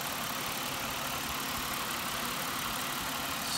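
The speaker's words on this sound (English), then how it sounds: "here's the engine" A 1999 Buick Regal LS's side-mounted 3.8 liter six-cylinder engine, front-wheel drive, runs at a steady idle, giving an even, unbroken hum and hiss heard up close without any speech.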